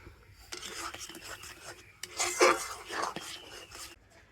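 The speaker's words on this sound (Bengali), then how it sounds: "আর এবারে আমি এরকম কন্টিনিউ নাড়াচাড়া করে এই আমের পাল্পটাকে একটুখানি ফুটিয়ে নেব।" Raw mango pulp being stirred as it boils in a pot, with repeated scraping strokes of a spoon against the pan, louder and rougher in the middle before fading out.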